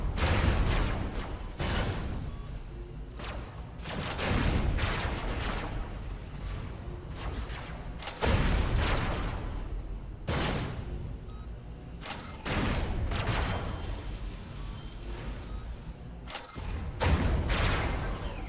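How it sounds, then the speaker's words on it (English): Rail gun shots in the robot combat game Robocraft, a string of sharp, loud blasts arriving in irregular bursts, each hit thumping hard and followed by a brief whooshing tail. "somebody taking rail shots at me"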